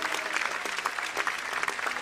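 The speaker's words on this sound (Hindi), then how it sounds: "सभी जोरदार तालियों से इन सब बच्चों का अभिनंदन करें" A crowd claps loudly and continuously at a live event honoring children, a dense wash of applause filling the whole moment without pause.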